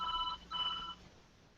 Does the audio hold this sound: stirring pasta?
no